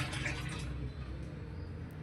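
Water is poured from a cup into a pot on the stove while making rasgulla, a steady, close gush of liquid lasting about two seconds.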